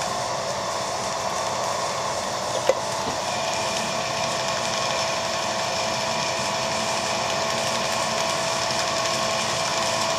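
A Banggood cobalt drill bit cuts into metal with a steady, continuous high whine and grinding hum that stays even throughout, with one brief click partway and no talking.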